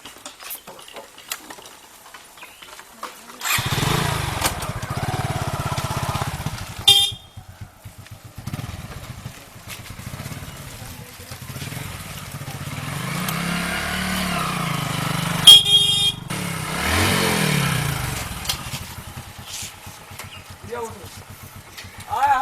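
A motorcycle engine starts up and runs, and its horn honks several times. People talk loudly over and between the engine noise and honks in an outdoor comedy scene.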